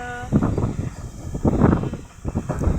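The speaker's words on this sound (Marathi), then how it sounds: "वारं तर खूप सुटलं आहे इतकं वारं सुटलं आहे ना लईच वारं सुटलं आहे" Strong wind gusting across an outdoor microphone in stormy pre-rain weather, rumbling in uneven loud bursts that swell and fade for the whole stretch, with no voices.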